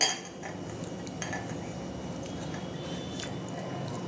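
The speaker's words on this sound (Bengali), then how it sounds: "প্রথমে দিয়ে দেবো এই পাকা তেঁতুলটা আমি খুব ভালো করে গুলে নেব" Ripe tamarind is squeezed and mashed by hand in a bowl of water, giving a faint, close, continuous squelching and sloshing with a few light clinks.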